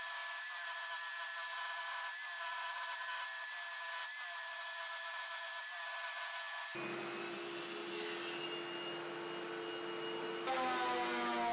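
A saw cuts through a wooden board being sized into back parts for modular workbench benches, a steady continuous rasping drone that shifts in pitch partway through, with no talking.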